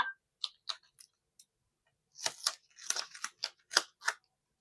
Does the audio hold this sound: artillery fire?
no